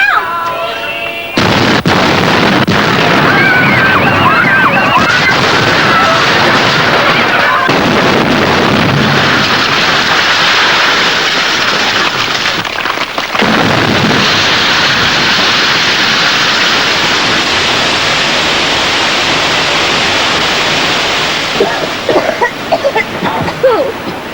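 A bomb detonates in water, sending up a loud, sustained roar of blast and churning spray that fills the scene for many seconds, with brief shouting mixed in near the start.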